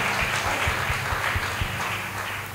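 A church congregation claps hands together in steady rhythmic beats to praise God at a revival meeting, a moderately loud crowd sound that fades slightly at the end.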